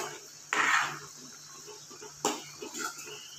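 A spoon scrapes and clanks against a pan while garam masala is stirred into mushroom masala, two distinct stirring bursts with softer clinks in between, fairly quiet and close.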